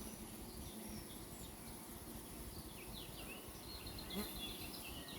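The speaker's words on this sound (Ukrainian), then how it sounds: "бджоли піднімають гул" A steady, low hum of many honeybees buzzing together at nucleus hives, continuous and moderately loud, with faint higher chirps drifting in the background.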